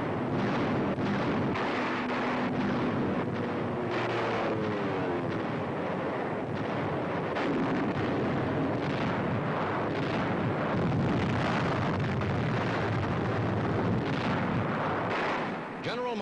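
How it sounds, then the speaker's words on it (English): Wartime newsreel bombing and artillery fire blasting enemy coastal positions and installations during an American assault, a dense, continuous rumble of blasts with a low droning hum underneath, overlaid by a narrator's voice throughout. "Enemy positions and installations along the entire coast are blasted again and again."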